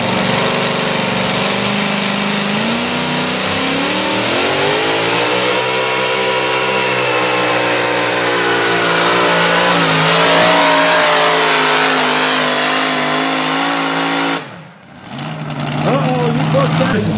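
A supercharged Chevrolet pro mod drag car engine runs loud and close, rising and falling in rough revs over a steady rumble, with a brief sharp dip near the end before it picks up again.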